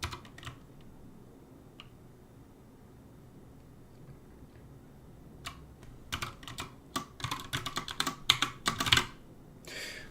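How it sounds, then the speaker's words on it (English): Fast typing on a computer keyboard, quiet sparse keystrokes at first, then dense rapid bursts of clicking close up with no voices. "I'm typing really fast for my field, so I'm probably hitting a key on accident every single time."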